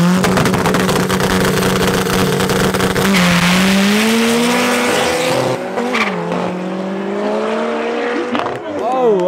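Cars drag race on the abandoned Zeerust airstrip, including a Stanza and an M5, with loud engines revving up through gears and tires squealing. A voice commentates over the racing.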